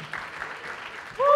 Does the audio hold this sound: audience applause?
yes